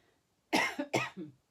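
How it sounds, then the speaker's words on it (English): Two sharp coughs from a person with a cold, in close succession, each followed by a softer rasping tail, fairly close and alone without speech. "Excuse me if I cough."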